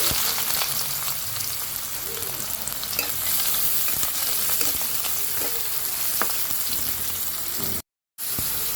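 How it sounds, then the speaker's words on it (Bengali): Onions frying in hot oil give a loud, steady, dense sizzle with faint stirring scrapes throughout, cutting out briefly near the end. "এখন আমি পরিমাণ মতো পেঁয়াজ দিয়ে দেব"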